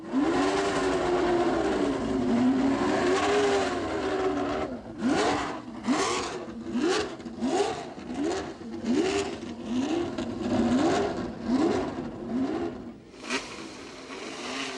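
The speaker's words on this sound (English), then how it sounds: "the unmistakable Ferrari scream of mechanical rage" 1969 Formula One race cars with a Ferrari flat-12 engine at the Mexico Grand Prix, a steady high engine whine followed by a series of rhythmic rising revs and gear changes as the cars accelerate past, with no talk.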